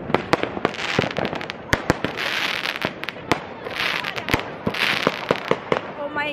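New Year fireworks on a Berlin street: rapid, sharp firecracker bangs and pops in irregular bursts, some close and loud, with crackling and whooshing between them and voices in the background.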